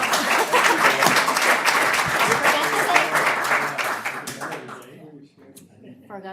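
An audience bursts into applause at a regular board meeting, a dense, lively clapping from many hands that thins and dies away near the end, with some voices mixed in.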